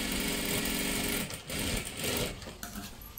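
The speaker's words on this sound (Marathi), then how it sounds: "आता इथे सुद्धा मध्यभागी बरोबर एक शिलाई मारून घ्यायची आहे" A sewing machine stitches the bottom of a salwar in a steady, close, continuous whir for over a second, then runs again in shorter bursts with brief pauses between.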